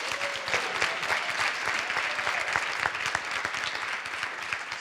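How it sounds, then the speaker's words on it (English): An audience at a conference awards session claps steadily, a dense patter of many hands at moderate loudness, with a brief voice at the start. "Please an applause for Roma Torregata."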